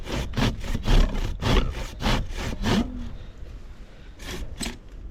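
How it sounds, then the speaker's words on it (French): A hand saw cuts through small wooden planks outdoors in winter snow beside a frozen lake: about eight quick, rasping back-and-forth strokes, then a pause and two more strokes, close and fairly loud. "on se coupe deux petites planchettes qu'on va mettre dans la neige pour accoter nos poteaux dessus"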